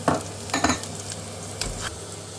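Chopped ginger and garlic sizzle in hot oil, with a few sharp stirring clanks from a spoon against the pan over a steady, moderate frying hiss.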